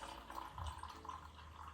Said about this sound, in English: As I'm pouring it back into the container.